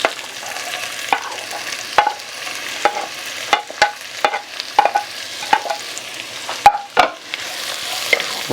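Onion frying in a pot for truck stop chili, soft steady sizzle broken by repeated scraping strokes of a spoon stirring at an uneven rhythm, close and alone without talk.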